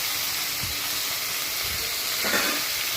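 Mutton and small and large onions sauté in a pan for a mutton coconut milk gravy, giving a soft steady sizzle with a couple of low stirring scrapes and no voice.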